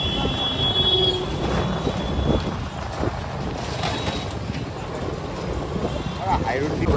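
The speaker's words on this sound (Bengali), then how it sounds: "ওই যে ওই নিচ থেকে ট্রেন যায়" A train passing on tracks below Kankinara bridge, heard from a vehicle climbing the bridge, a continuous rumbling roar with faint metallic squeal mixed into steady road and engine noise, under no talk.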